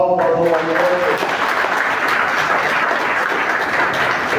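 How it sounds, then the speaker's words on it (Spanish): An audience at a conference breaks into sustained applause honoring elders, dense clapping rising right after a voice at the start and continuing strongly to the end. "Denme un aplauso para los mayores"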